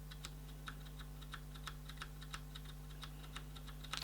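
Keys on a Ducky Channel Shine II mechanical keyboard pressed lightly to actuation without bottoming out, giving soft, evenly spaced clicks in a steady rhythm over a low electrical hum, with a slightly louder cluster at the end.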